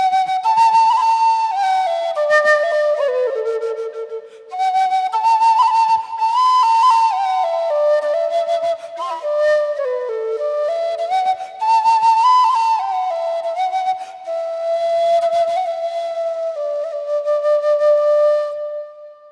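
A pipe played as a musical instrument carries a slow theme melody with clear, breathy, whistle-like tones in connected phrases and brief pauses, alone and fairly loud.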